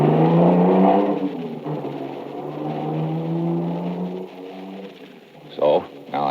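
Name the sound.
car roaring off, radio drama sound effect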